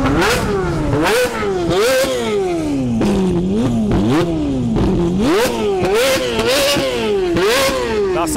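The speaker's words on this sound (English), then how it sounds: "Check out this Ferrari sound." A Ferrari engine revs hard and repeatedly, pitch climbing and dropping in sharp sweeps with crackling bursts between, loud and close.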